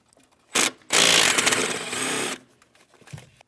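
Ratchet spinning out 8mm bolts from the upper intake plenum of a Ford Transit 250, a short burst of rapid clicking followed by a longer continuous ratcheting run, close and alone.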